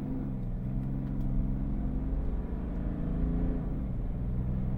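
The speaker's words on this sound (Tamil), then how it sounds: "ஆக்சிலேட்டர் கொடுத்த உடனே வண்டி மூவ் ஆயிடுச்சு" A BMW car accelerating hard from a standstill, with a steady, loud engine rumble and rising drone heard from inside the cabin, continuous with no voices.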